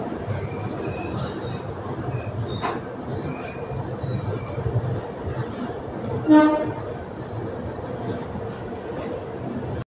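A Shatabdi Express train rumbles steadily into Solapur station, a continuous loud wheel and carriage roar with a short screech of brakes partway through.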